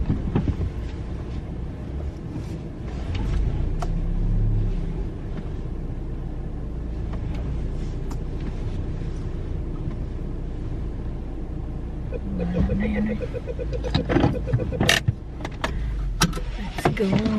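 A car reversing into a parking space: steady low engine rumble and road hum from inside the vehicle, with a brief whine midway and some clunks and rattles toward the end.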